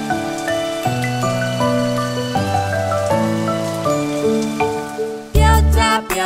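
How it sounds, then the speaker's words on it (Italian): Steady rainfall patters beneath a bright children's song instrumental of plucked melodic notes, with a louder burst of rain and music near the end. "Oh no, sta piovendo, ma io voglio giocare."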